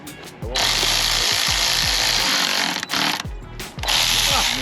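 A power tool ratchets in loud bursts while bolt-on parts go onto a CSF TRD, probably an Airaid air intake; repeated rapid mechanical clicking runs in close-up stretches, broken by short pauses.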